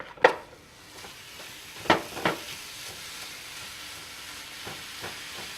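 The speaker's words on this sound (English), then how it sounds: "To this one, over medium-high heat, we're gonna cook our turkey" Ground turkey cooks in a pan over medium-high heat for shepherd's pie, a soft, quiet sizzle with a few sharp clinks and scrapes scattered through, and nobody speaking.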